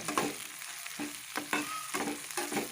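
Ginger-garlic paste with chillies sizzles in a pan under repeated stirring, rhythmic scraping strokes about every half second over a low continuous fry, close and with no voices.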